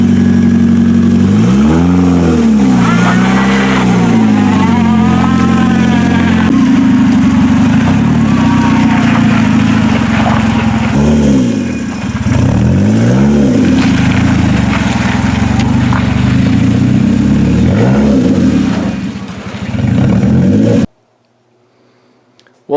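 The engine of a 2005 Mazda 3 wrecked in a demolition derby runs loud and close, rising and falling through several rev swells before cutting out abruptly near the end.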